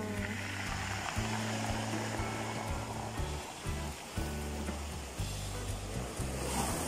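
Waves wash along the seashore on an early-morning walk by the sea, a steady loud rush of surf under a persistent low rumble, with no voices.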